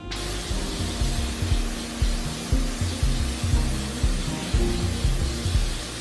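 Repeated hissing bursts of an aerosol cooking spray can, several pulses in an uneven rhythm, loud and close with no talking.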